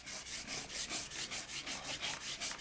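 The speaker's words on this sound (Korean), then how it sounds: "검은 바탕에 화초와 나비 문양들이 드러나자 사포로 문질러 닦는다." Sandpaper rubs a black-lacquered mother-of-pearl panel decorated with flowers and butterflies, a rhythmic back-and-forth scratching with about a dozen even strokes, close and steady.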